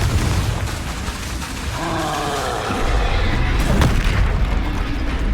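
Spell explosions in the Hogwarts Legacy video game, including Confringo and Bombarda, boom and roar loudly and continuously in a dense, rumbling barrage with no clear gaps.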